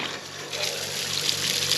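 Water runs from a pipe on a farm in a steady, hissing flow that swells slightly, close and continuous with no voices.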